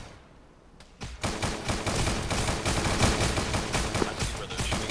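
Gunfire from an enemy squad during a 100-meter ruck operation, a brief quiet start breaking into dense, rapid rattling bursts that keep up loud and near without pause.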